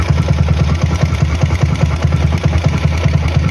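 A Rusi 200 SSV motorcycle with a 32mm Keihin flatslide carburetor idles to warm up, its engine throbbing in a steady, loping low pulse that stays close and fairly loud throughout, with no talk.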